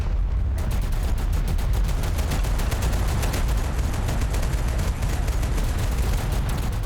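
Sustained heavy gunfire in the war game Total Conflict: Resistance, rapid automatic bursts rattling continuously and loudly over a dense battlefield din with no pauses.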